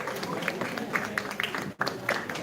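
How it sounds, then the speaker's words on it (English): Audience applause at a live event: a dense, steady patter of many hands clapping for a couple of seconds, with a brief dip near the end, while a few voices mingle underneath. "Give her a big round of applause"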